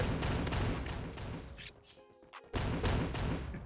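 Desert Eagle pistol shots in the shooter game Forward Assault, a dense burst of loud gunfire cracks that cuts out briefly into quieter game sounds before firing resumes.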